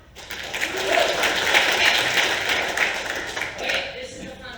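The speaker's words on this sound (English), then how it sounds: "Can I get a clap?" Audience applause from a crowd at a cybersecurity keynote, a dense steady wash of clapping that holds for several seconds and then tapers slightly.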